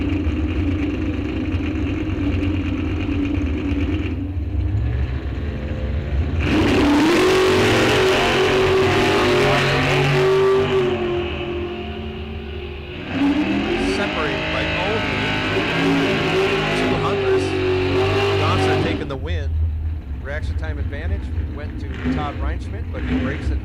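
Drag racing cars at a bracket series event launch down the strip, a flamed-out Nova against a dragster, engines roaring loud and sustained with a rising revving surge, while an announcer talks over the noise throughout.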